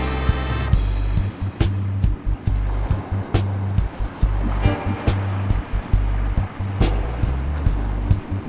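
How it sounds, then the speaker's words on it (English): Ocean waves crash against the shore at Sunset Cliffs in San Diego, heavy rumbling surf with a low churning roar broken by sharp bursts, steady and close throughout. "Looking out in the ocean, hearing the waves crash,"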